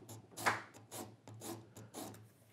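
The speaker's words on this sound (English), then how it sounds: "I'm just using a scraper to scrape up the surfaces" A hand scraper pulled across wooden surfaces while making a dovetail template, five rhythmic rasping strokes, close and fairly quiet, with no talking.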